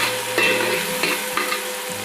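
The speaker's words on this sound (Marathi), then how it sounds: "हळद टाकून थोडं परतून घ्यायचं हे मिश्रण" A mutton rassa masala mixture with turmeric is sautéed, a spatula scraping and stirring in a few quick strokes over a steady close sizzle, with no voices.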